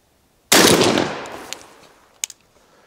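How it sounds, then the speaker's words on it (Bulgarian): A Benelli M4 A.I. Anti Drone Guardian short-barrel shotgun fires one loud, sharp blast at balloons outdoors, with a long decaying echo and two small pops trailing after. "В момента изпълнявам детската си мечта да гърма по балони."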